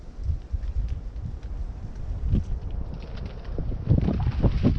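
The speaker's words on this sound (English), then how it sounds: "As if on cue, the wind is starting to blow and my tent wants to escape me." Gusty wind blows outdoors around a tent, buffeting the microphone with low rumbling gusts that swell louder toward the end, alongside scattered rustling and flapping of tent fabric.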